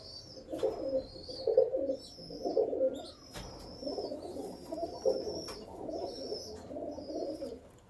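Male pigeons coo in soft repeated low phrases, several in succession, with occasional higher bird chirps and a quiet background.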